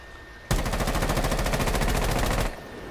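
Rapid automatic gunfire in a video game, fired in one sustained two-second burst with a steady rattling rhythm while recoil is pulled down on a controller using the classic rotation setting, loud and close, with no talking.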